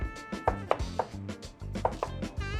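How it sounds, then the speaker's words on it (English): Kitchen knife chopping vegetables such as leek on a cutting board for a shrimp court bouillon broth, a steady run of sharp, close knocks of blade against board, about nine cuts in under three seconds. "This style of knife is great for cutting vegetables."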